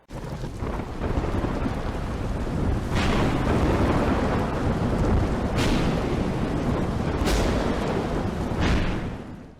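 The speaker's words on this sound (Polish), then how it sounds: "pada deszczyk, pada równo, raz na palmę" Steady, heavy spring rain pours down on palm plants in a dense, continuous hiss, with a few brief louder gusts swelling through it.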